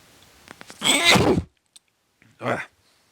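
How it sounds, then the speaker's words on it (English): One sneeze bursts out loud and close after a few small breathy clicks, followed a moment later by a shorter, quieter sound like a sniff or second exhale. "I'm going to sneeze, apologies."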